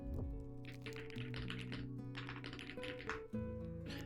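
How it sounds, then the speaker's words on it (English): Keys clack quickly and softly on a new computer keyboard, a light, continuous typing patter heard faintly beneath a steady, sustained tonal background hum. "I got my new keyboard. It sounds nice."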